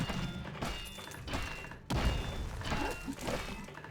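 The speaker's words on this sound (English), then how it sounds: "the mortar's actually missing some shots" Mortar shells landing in a real-time strategy game match: a few dull thuds and shattering impacts, one sharp hit near the middle, over a busy background of game effects.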